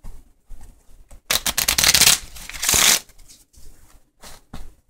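A deck of playing cards is shuffled by hand close up. Riffles and bridges make loud ruffling bursts, and soft taps and slides come between them.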